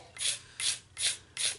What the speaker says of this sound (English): I want to scrape this way, going the length of the line